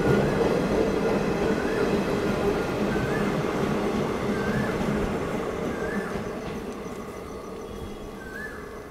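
A train rolls past the platform at Banasawadi railway station with a steady, loud rumble and repeated brief wheel squeals at regular intervals, slowly fading as it moves away.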